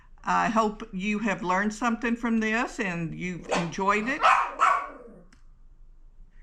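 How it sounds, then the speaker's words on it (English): A dog named Rudy barks in short bursts beneath a person talking steadily nearby, in a quilting workroom. "Excuse the dog"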